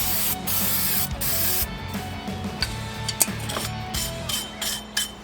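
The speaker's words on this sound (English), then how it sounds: "clean them off with brake clean" Aerosol brake cleaner hisses in long bursts onto a new brake rotor during a Raybestos brake job on a Ford Explorer, mixed with intermittent metallic clicks and rattling from the work, close and fairly loud.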